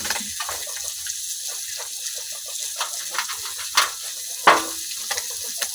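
Small khalse fish fry in oil with a steady, moderate sizzling hiss, broken by a few sharp pops and spatters toward the end.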